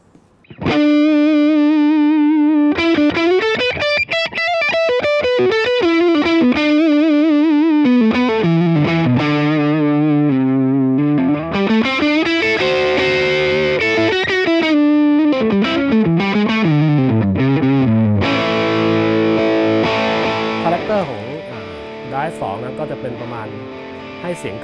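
Electric guitar played through a Laney LV300 Twin amp on its drive 2 channel at low gain, with loud sustained distorted notes, slides and chords running continuously, carrying effects and a little reverb.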